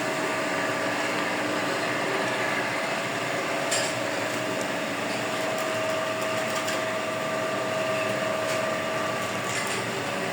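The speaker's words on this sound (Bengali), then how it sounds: "মোটর দিয়ে উনি মেশিনটা চালু করেছে।" Machine driven by a five-horsepower 220 electric motor, running with a continuous loud, even whine and hum plus a steady tonal drone and no pauses.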